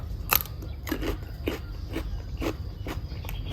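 Someone eating raw lobster sashimi, with a series of soft, wet, crunchy bites and chewing sounds recurring at a steady rhythm, close to the mic and fairly quiet, with no talk.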